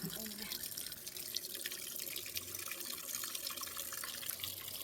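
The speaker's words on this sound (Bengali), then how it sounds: "এই যে কলে ধুয়ে নেবো, আগে জলটা একটু পরিষ্কার করে দিই" Clothes being rinsed under a running village water tap, a steady broadband splash of flowing water with faint drips, continuous and close, with speech briefly mixed in.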